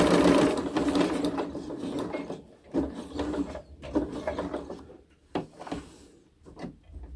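Sewing machine back stitching the seam of a child's fabric face mask, close-up bursts of rapid mechanical stitching separated by short pauses and clicks as the fabric is repositioned.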